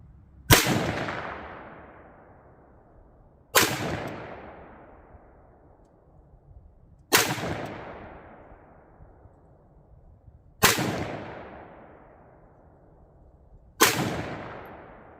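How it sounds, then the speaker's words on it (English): Five rifle shots fired as a group at a 50-yard target, each a sharp, loud crack with a long echoing tail, spaced about three and a half seconds apart in a quiet outdoor setting. "So I'm going to do a little 5-shot group on this, see where the group's printing"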